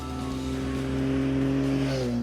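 A Triumph Tiger 800 triple-cylinder engine pulls hard under acceleration, a smooth rising whine held steady then shifting near the end, loud and close with no talk.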